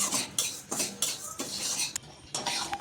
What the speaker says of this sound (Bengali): এখন আমি চিনিটাকে ক্যারামেল বানিয়ে নিচ্ছি। একদম অল্প আঁচে এটাকে চিনিটাকে নাড়তে নাড়তে